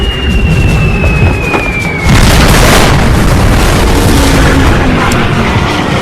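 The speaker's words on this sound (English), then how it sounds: "Ferry's bombs strike aft of the battleship's superstructure" Aircraft bombs hitting the battleship Yamato aft of its superstructure: a high descending whistle gives way to a heavy, roaring blast that sustains loudly, close and overwhelming.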